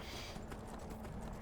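A horse being ridden in Skyrim gives brief, rhythmic hoof clops on the ground, faint and set against a steady background of game ambience.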